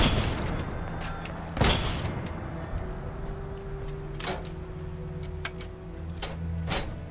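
Rocket launcher blasts and gunfire in a Fallout 4 firefight, with a sharp close explosion early on, then scattered distant bangs and pops over a steady game hum and tonal background, no voice.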